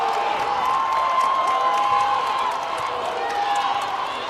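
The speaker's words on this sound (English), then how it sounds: "This crowd is electric right now" A crowd roars and cheers through a girls' prep basketball game between Lebanon and Stewarts Creek, a steady loud wash of voices and whoops in a gym with whistle-like tones. A commentator talks over it.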